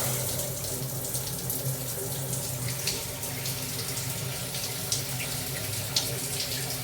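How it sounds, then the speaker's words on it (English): A shower runs in a Planet Fitness gym bathroom: steady, continuous hiss of spraying water close by, with faint splashes and no talk. "this is the craziest Planet Fitness shower I have ever seen"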